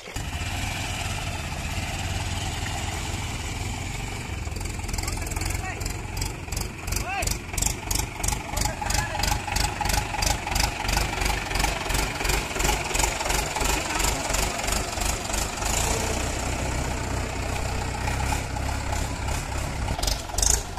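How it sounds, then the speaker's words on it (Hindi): Mahindra 415 DI tractor's diesel engine chugs up a ramp, its rhythmic thumping exhaust pulses rising and growing loud and close as it climbs, over a steady low rumble. "तो ट्रैक्टर और गाड़ी को हम लोग यहाँ से ऊपर चढ़ाते हैं।"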